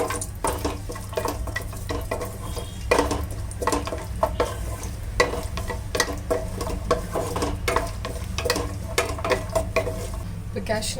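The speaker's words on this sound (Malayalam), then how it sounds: "നമ്മൾ ആദ്യം തന്നെ കുറച്ച് കാഷ്നട്ട് ഒന്ന് ഫ്രൈ ചെയ്തെടുക്കാം." Cashew nuts fry in a pan with a continuous soft sizzle, punctuated by frequent scraping and stirring knocks of a utensil against the metal, close and moderately loud throughout.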